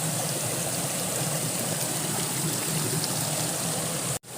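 A river stream flows steadily at a campsite, a dense, continuous rush of water close by with no voices over it, cutting off abruptly near the end.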